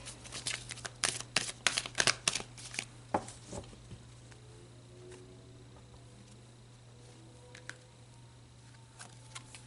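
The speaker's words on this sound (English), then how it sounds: "So let's pull some more cards." Tarot cards being shuffled and drawn, a quick flurry of close crisp card slaps and riffles in the first few seconds, then mostly quiet with a faint hum and a few soft isolated card taps.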